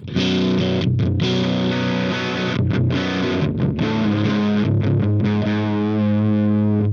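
A crunchy, driven electric guitar tone from a Mesa Triple Rectifier amp simulation in push mode holds chords with short breaks between them, loud and continuous with a gritty, saturated edge.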